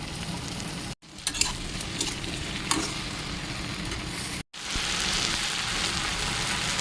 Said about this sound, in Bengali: পেঁয়াজ, টমেটো আর কাঁচা লঙ্কাগুলো ভাজা ভাজা হয়ে গেলে এতে ভেন্ডি কুচোগুলো অ্যাড করে দেবো